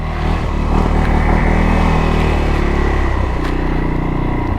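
A CFMoto Cforce 600 ATV churns through deep mud, its engine droning loud and close with steady throttle, a low rumbling note that dips slightly near the end.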